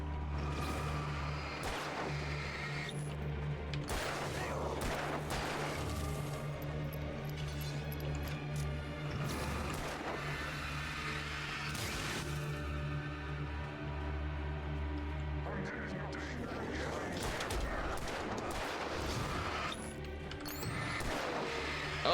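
Gunfire and impacts in the video game Alan Wake Remastered, with repeated sharp broadband bangs scattered over a steady low in-game drone and music, loud and close throughout without any talk.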